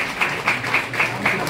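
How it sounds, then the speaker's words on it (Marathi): An audience at a farmers' gathering and workshop claps in a steady, rhythmic beat to honour a guest, loud and close throughout. "जोरदार टाळ्यांचा सत्कार करूयात आपण."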